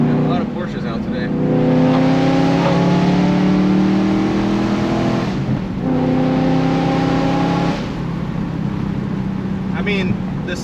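A BMW E92 M3 engine revs loudly and close, with rising harmonic sweeps that climb, drop near the five-second mark, then climb again before easing off near eight seconds.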